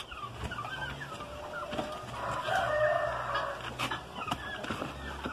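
Several free-range chickens cluck and murmur nearby in a henhouse, with scattered sharper squawks rising briefly over a low background hum.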